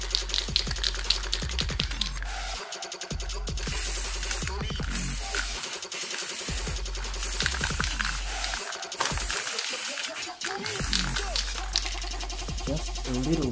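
Short bursts of aerosol spray paint hiss up close onto car rims, separated by brief pauses, alongside clicks and faint handling noise.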